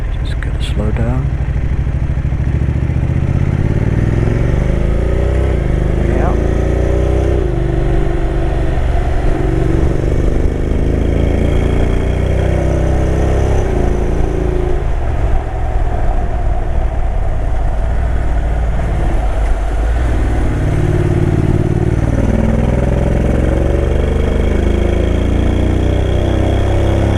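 A motorcycle works through the very tight hairpin corners of Trollstigen in Norway, its engine droning steadily and rising and falling as the rider slows and pulls through bends, with wind noise and the rider talking throughout.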